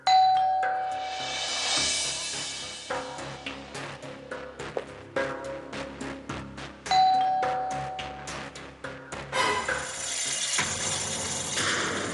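A doorbell rings repeatedly late at night, with loud chiming ding-dong tones pressed again and again, interspersed with sharp thumping knocks and brief gaps between the rings.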